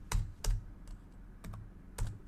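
Close, quiet clicking of keys on a computer keyboard, a few separate keystrokes in an irregular rhythm, with no speech.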